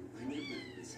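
A kitten gives one short meow, close and fairly quiet, with faint room noise around it.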